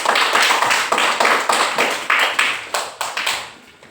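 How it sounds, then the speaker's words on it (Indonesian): Students in a classroom clap in quick, loud rhythmic bursts of sharp hand claps, close by, trailing off and fading toward the end. "Tepuk tangan dulu."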